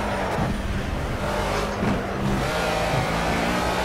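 A race car engine in the video game Project Cars hums steadily with a few brief revving surges, fairly close and constant, with no voices.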